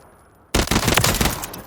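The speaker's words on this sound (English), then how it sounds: "the best way to fire this is always tap firing" A rifle is tap-fired in full auto in Call of Duty: Modern Warfare III, a sudden close, loud string of rapid shots, roughly a dozen cracks in quick uneven succession after a near-silent lead-in.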